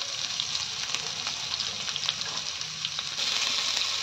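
Garlic cloves and a green chilli thecha paste, finely ground in a mixer, sizzle in hot oil with cumin, a steady dense crackle with small pops that rises slightly near the end.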